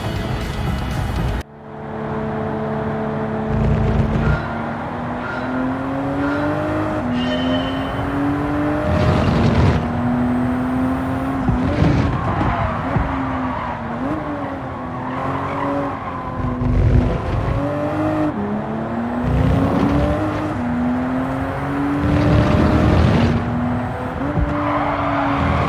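A race car in a Gran Turismo 7 replay roars at high revs for about 25 seconds, its engine pitch rising and falling through gear changes while tires squeal through the corners. The sound is loud and close, and no one speaks.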